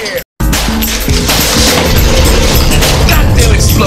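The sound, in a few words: explosion in a video game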